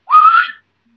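A person's voice imitates a single whistle heard in the Allagash woods of Maine: one short, clear rising tone, close and alone, then silence.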